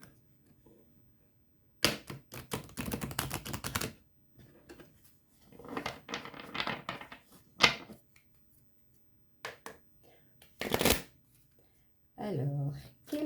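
Oracle cards are shuffled for a sentimental reading in several distinct bursts of papery riffling, close and crisp, separated by quiet pauses.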